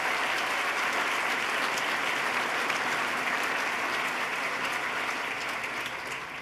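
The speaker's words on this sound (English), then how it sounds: "Let's give him a round of applause." A large audience at a State of the State address claps steadily for the lieutenant governor, a dense, even roar of applause that holds loud and full for several seconds before easing slightly at the end.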